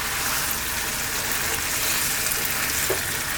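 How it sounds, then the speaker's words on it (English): Cooked eggplant lands in a pan of tomato, garlic and cream pasta sauce, giving a steady close sizzle and bubbling frying hiss with light stirring, no talking. "We're now going to add in our cooked eggplant"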